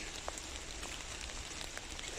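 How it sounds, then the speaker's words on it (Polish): Rain falling steadily in a forest, a dense even hiss of drops on leaves and ground, with a few sharper individual drops close by. "Coraz bardziej pada."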